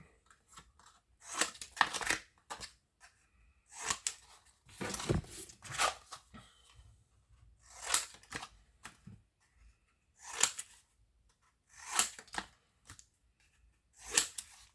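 Cardboard pieces for a photo album structure are cut by hand in short, close, crisp bursts of snipping, repeated about a dozen times with quiet pauses between.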